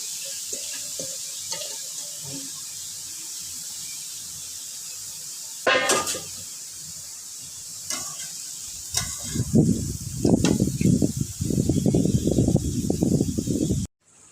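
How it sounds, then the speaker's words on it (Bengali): Vegetables fry in a pan with kachki dried fish, a steady crackling sizzle with a few stirring scrapes that grows louder and busier toward the end, no talk over it. "আমি কাশকি শুটকিতে ভাজি করতেছি"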